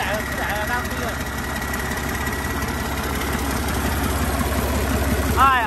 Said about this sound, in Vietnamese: Máy lổ êm quá anh em ạ.